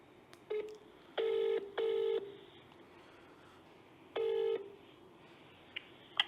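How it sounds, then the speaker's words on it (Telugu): A telephone call is being placed: a few separate electronic tones sound in short, spaced bursts, followed by faint clicks against a quiet background with no voices. "మల్లు రవి గారికి ఒకసారి కాల్ చేద్దాం, లిఫ్ట్ చేస్తారో చేయరో."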